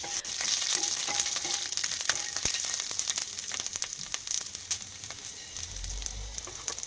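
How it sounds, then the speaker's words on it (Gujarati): Green chillies, peanuts, whole coriander seeds, garlic and cumin sizzling in a little oil in a pan for a thecha chutney, a steady close crackle with scattered pops throughout, getting louder and denser near the end. "તવામાં થોડા તેલમાં લીલા મરચાં, સિંગદાણા, આખા ધાણા, લસણ અને જીરું નાખીને બરાબર સાતળી લો"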